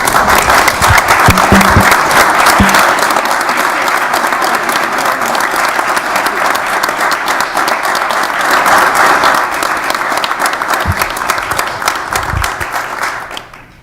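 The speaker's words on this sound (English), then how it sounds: "Please stand and give the applause to the deputy." Sustained applause from a standing audience at a Kenosha County Board meeting, dense steady clapping filling the room for about thirteen seconds before tapering off at the end.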